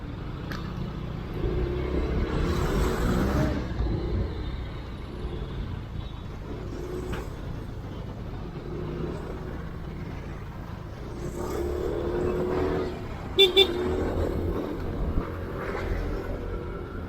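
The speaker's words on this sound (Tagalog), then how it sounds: "Napaka-traffic, sobrang traffic doon." Heavy congested road traffic during a Lalamove delivery run: a steady rumble of engines and passing vehicles, with a short, sharp honk-like burst near the end.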